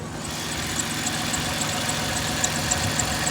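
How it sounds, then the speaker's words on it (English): A 1996 Dodge Grand Caravan engine idling with a faint, evenly repeating high chirp from the belt over a steady low engine hum, heard close and with no talking. "Seems like the belt squeal's starting to come back a little bit."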